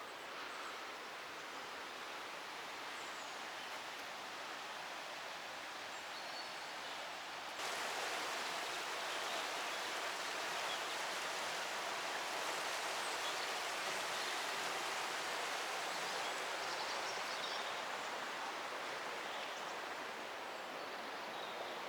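Water of the River Strid roars steadily through a narrow rocky gorge, a dense, continuous rushing wash that grows slightly louder partway through, with no voices over it.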